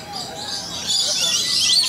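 Small birds chirp and tweet thinly at a hand-feeding aviary at the Aquarium of the Pacific, high pitched and fairly close, busier and louder in the second half against a soft background murmur.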